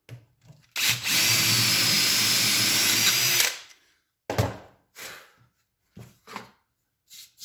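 Close, loud drilling of a shelf-pin hole in a wooden cabinet runs steadily for about three seconds, then stops, followed by scattered knocks and short scraping sounds.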